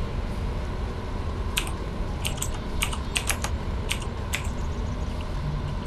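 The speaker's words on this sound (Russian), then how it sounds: "Если кто слышит щелканье клавиатуры, да, это моя старая клавиатура." An old computer keyboard clicks in short irregular bursts of keystrokes during online game chat, close and fairly crisp over a steady room hum, with no voices.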